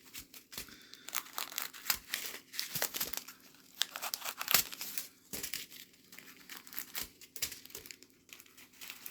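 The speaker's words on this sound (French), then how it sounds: "Je vais juste couper quelques sachets." Small plastic bags of diamond painting drills are cut open by hand, giving close, quiet bursts of crinkling and rustling plastic with occasional tearing sounds, in irregular clusters throughout and without talk.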